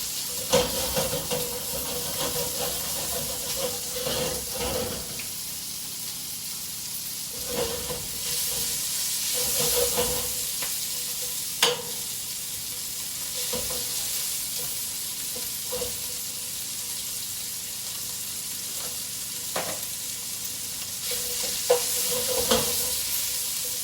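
Lamb scraps from a butchered lamb brown for paella, sizzling and hissing steadily in the pan, with occasional soft knocks and scrapes breaking through the constant frying noise.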